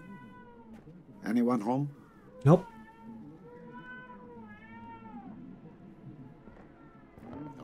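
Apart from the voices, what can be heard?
cat yowling outside, from the video game 12 Minutes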